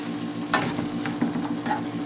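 Meat being stirred in a hot pan for mazorcada, a steady close sizzle with a few scraping stirs at regular intervals.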